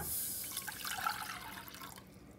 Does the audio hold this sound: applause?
no